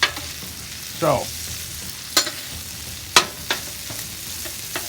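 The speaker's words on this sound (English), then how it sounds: "We want a light saute on the jalapenos, but we still want some crispness to them." Diced jalapeños sautéing lightly in a hot pan give a steady close sizzle, broken by several sharp scraping stirs and clinks spaced about a second apart, with one brief spoken word near the start.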